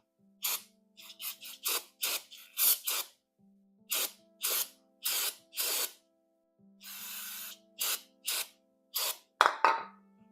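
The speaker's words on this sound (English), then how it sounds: "Oh, that's brake clean directly into my bloodstream." Short hissing bursts of brake cleaner spraying from an aerosol can in a garage, a string of quick, close blasts with brief gaps and one longer spray.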